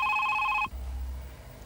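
A telephone in a drama serial rings with a bright, steady electronic trill for under a second before abruptly cutting off, leaving a low background hum.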